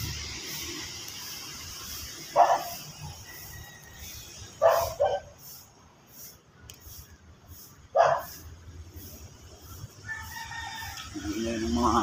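Dogs bark outside at a rural Ilokano home cooking spot, a few short bursts spaced apart over background noise, with rooster-like calls and some faint voice mixed in.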